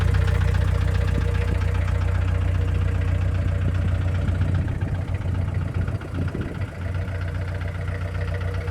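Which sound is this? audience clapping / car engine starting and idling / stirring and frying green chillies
car engine starting and idling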